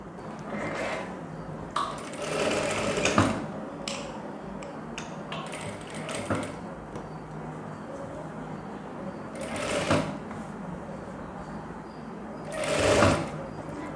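A sewing machine runs while a blouse is stitched, producing irregular bursts of close mechanical whirring and ratcheting clicks separated by quieter gaps, with faint talking in the background.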